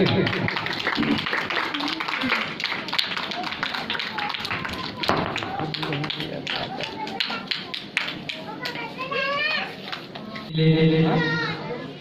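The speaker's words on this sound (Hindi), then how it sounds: "ताली बजा के" Scattered audience clapping at a Chhattisgarh state foundation day (Rajyotsav) celebration, sharp claps breaking through under continuous loud talk from a host and background chatter.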